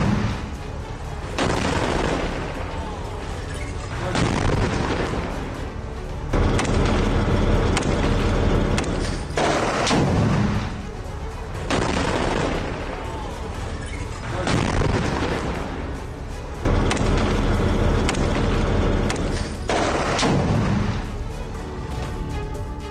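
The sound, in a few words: heavy gunfire and shelling in Gaza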